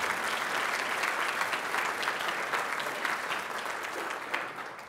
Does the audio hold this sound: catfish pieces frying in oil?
no